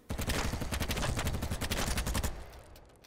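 A UMP-45 submachine gun in BattleBit Remastered fires one sustained automatic burst of rapid, evenly spaced shots that is loud and close, then cuts off and leaves a short fading tail.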